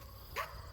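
Another dog lets out a single short bark at a distance, brief and fairly faint against quiet outdoor background noise.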